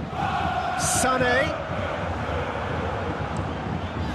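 A stadium crowd roars in the PES 2021 video game during a Champions League quarter-final match, a steady loud wash of distant voices with a whistle, and a commentator talking over it.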